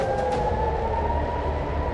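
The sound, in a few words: air raid sirens in Tel Aviv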